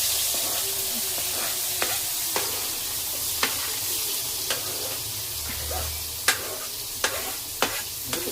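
Chopped onions go into hot oil already tempered with mustard seeds, cumin, dried fenugreek, cloves, cinnamon, curry leaves and asafoetida, frying with a quiet sizzle and sharp, intermittent spoon scrapes and clicks.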